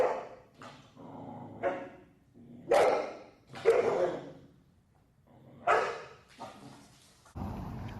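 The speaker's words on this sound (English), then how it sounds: "now Apollo's starting to do a little growling" A Rottweiler giving bursts of barking and yipping with short growly vocal sounds in between, loud and close, spaced irregularly with quiet gaps and no talk.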